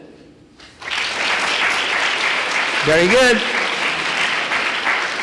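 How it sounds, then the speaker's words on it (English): An audience applauds itself, steady dense clapping starting after a brief pause and holding loud to the end, with a voice speaking briefly over it. "I want you to give applause to yourself."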